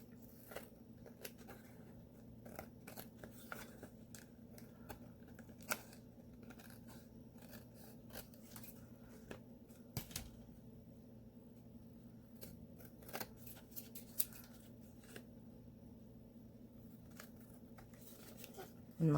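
Scissors snipping around paper to trim a belly band, with quiet, irregular cuts and soft paper rustles over a steady low hum.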